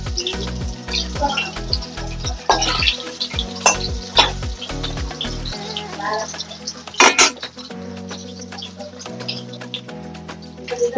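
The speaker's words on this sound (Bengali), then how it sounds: "এখন আমি পনিরগুলো ভেজে নেব।" Paneer sizzles in hot oil in a pan, a steady frying crackle with occasional stirring and utensil clinks against the pan over low rhythmic background music.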